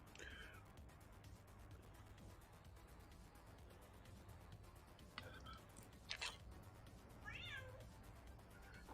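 A ship's cat in a space video game meows a few times over a steady low engine hum and ambient hiss, the calls short and fairly faint near the middle and end.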